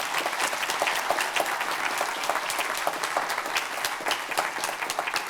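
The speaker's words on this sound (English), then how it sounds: "so please give her a round of applause." A crowd at a county public health event applauds steadily and fairly loudly throughout, dense overlapping claps with no pauses.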